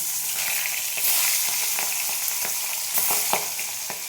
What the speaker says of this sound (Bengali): দেখো আমি তেল দিয়ে দিচ্ছি কড়াইয়ে, মাছ ভাজবো।